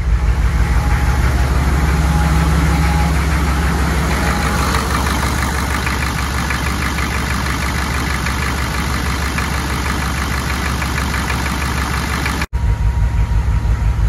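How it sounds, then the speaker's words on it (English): A diesel truck engine idles steadily while warming up after air was bled from its injection pump, a loud continuous low rumble with a fine rhythmic knock that holds even throughout, broken by one brief click near the end. "it's been idling smooth like this"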